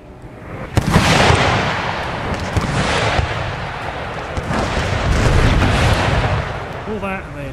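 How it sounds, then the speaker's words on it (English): Mortar and artillery fire in Empire Total War, a strategy video game: dense rolling booms and crackling blasts overlap in a loud, continuous barrage, with a few sharper reports standing out. "engage that unit of mortars."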